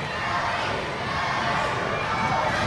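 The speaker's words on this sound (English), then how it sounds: "This crowd in here tonight is one of the hottest crowds I've been around." A crowd at an indoor wrestling match roars and cheers in a dense, sustained wall of noise with voices shouting throughout.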